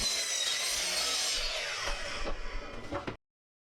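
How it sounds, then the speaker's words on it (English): A handsaw cuts through a wooden board for the sides of a tumbling tower game box, a steady loud rasping stroke that breaks into shorter strokes before the piece drops free and it stops. "Next, cut the long sides at 7 and 5/8 inches high and the short sides at 9 and 5/8 inches high."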